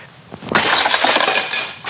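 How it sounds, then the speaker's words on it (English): A plastic dinner plate shatters in a dining room scene, breaking sounds layered with added effects: one sharp crash followed by a bright, glassy scatter of shards and clinks that trails off over about a second. "a lot of that sound is actually natural sound from the plate breaking"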